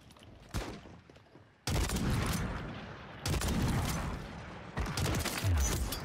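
Gunfire in Call of Duty Warzone on Rebirth Island, with bursts of loud, dense shots in three rapid volleys after a single early crack, sharp and close, with no talk over them.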